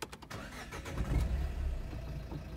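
A Renault Megane 3 1.5 dCi station wagon diesel engine starts with the push of a start button: a brief starter crank, then the engine catches and settles into a loud, steady idle rumble.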